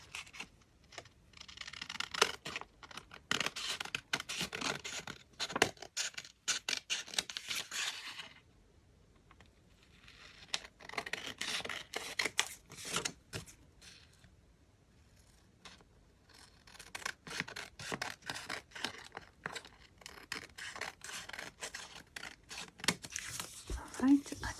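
Paper cut with scissors while making junk journal envelope pouches with windows: close, crisp snipping in three dense runs separated by short pauses.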